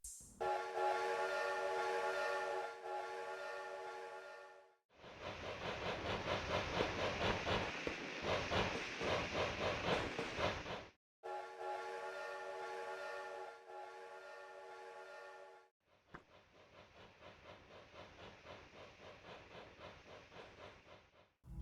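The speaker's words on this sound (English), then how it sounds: "Every so often, a train will pass by the station, and naturally, there's an accompanying sound effect for this train." A passing train from the Animal Crossing video game: alternating stretches of a tonal whistle-like horn and a rhythmic clattering rumble, each lasting several seconds, fairly loud and alone without talk.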